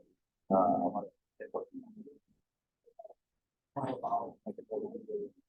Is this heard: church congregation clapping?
no